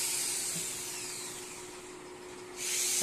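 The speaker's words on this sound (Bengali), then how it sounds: "ড্রিল চালাইছে" An electric drill running in a workshop where sound equipment is being built, a steady close whine with a constant hum that dips slightly mid-run and swells again at the end.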